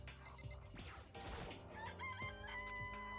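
Chickens in the video game Danganronpa give out a busy jumble of clucks and a crowing call, with sharp bright squawks layered over music and a brief crash near the middle.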